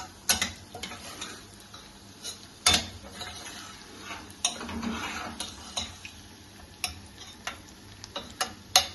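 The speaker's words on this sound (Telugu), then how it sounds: "అది బాగా మగ్గుతున్నప్పుడు ఈ ఫిష్ వేసేస్తానండి ఇదిగోండి" Small nethallu fish going into a pan of onions fried with salt, chilli powder, turmeric and ginger paste, with a quiet, steady sizzle broken by sharp clicks and scrapes of a spatula, close up and without voices.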